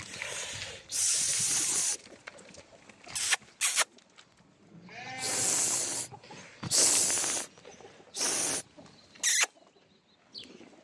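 Grey Tatali-breed ram lambs, offered for sale, bleat in several loud, separate bursts, some long and some short, with quiet gaps between them and no talking.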